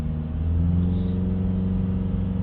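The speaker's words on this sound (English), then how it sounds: "We're going to hold the revs now up to about 3000 RPM" Mitsubishi Outlander engine held at a steady high idle around 3000 RPM, a loud continuous hum with stable harmonic tones and no change in pitch, close and alone.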